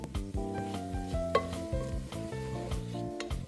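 Onions sizzle and are stirred in a pot as the base for a soulful beef stew, with repeated scraping strokes over a steady close frying hiss.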